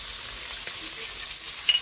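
Chicken liver and shrimp sautéing in a hot pan, a steady close sizzle with faint crackles and a couple of sharp pops near the end.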